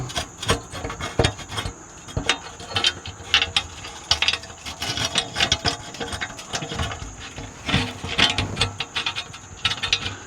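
Ratchet clicking in rapid bursts while tightening the front differential cover bolts on a 2024 Chevy Colorado/GMC Canyon, with mechanical rattles and scrapes, close and steady, no talk.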